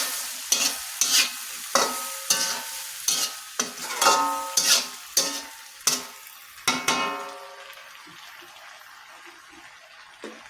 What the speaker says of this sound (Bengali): মশলাটা ভালোভাবে মিক্স করার জন্য একটু কষিয়ে নিলাম